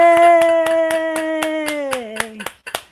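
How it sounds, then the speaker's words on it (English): A few hands clap at a steady, even pace to close a live jewelry-making session on wonky bracelets and sari ribbon. A voice holds a long cheering note over the claps and falls off near the end, followed by a couple of final sharp claps. "We're going to take off with applaud."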